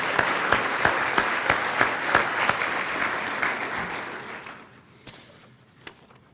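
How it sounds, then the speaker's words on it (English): A roomful of people at a chamber of commerce annual dinner meeting applauds supporters and contributors: dense, steady clapping that tapers off over several seconds, leaving a few scattered final claps. "Let's give this entire group of supporters and contributors a big round of applause."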